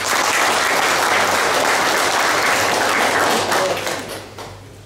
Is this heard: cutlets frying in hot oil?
no